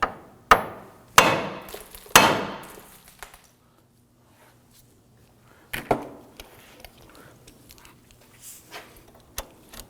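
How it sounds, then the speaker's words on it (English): Hammer striking the steering knuckle of a 2008-2011 Ford Focus to free the outer tie rod, three sharp metallic blows close together, then a pause and a few lighter taps with ringing decay. "Now we're going to use our hammer to strike the knuckle right here."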